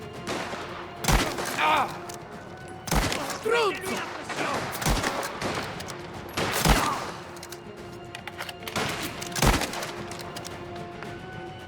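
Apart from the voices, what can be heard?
sniper gunfire in the video game Mafia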